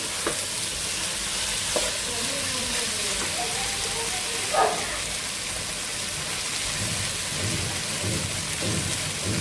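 Rice frying in a pot with cardamom, cinnamon, black pepper and cloves, a steady close sizzle with scraping stirs and a brief clatter midway.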